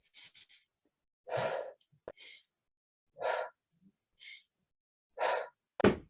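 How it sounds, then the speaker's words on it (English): Breathing during a squat exercise: a handful of short, audible inhales and exhales, close to the mic, spaced at a steady pace with quiet gaps between. "That's how I breathe as I'm squatting."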